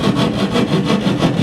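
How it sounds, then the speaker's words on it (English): A handheld sheetrock saw cuts through drywall to patch a small hole, making loud, close, rhythmic rasping strokes at about four per second, with no voice over it. "here's where your sheetrock saw comes in. You do what's called a plunge cut."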